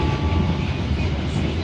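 The KA Ranggajati passenger train travelling toward Mojokerto station, a steady, loud, close rumble heard from inside the carriage without a break.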